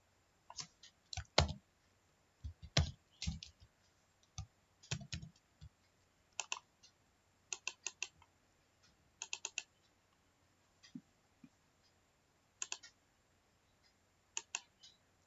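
Typing and clicking on a computer keyboard in a spreadsheet lesson, with sparse quiet key taps and clicks arriving in small irregular clusters, close and alone.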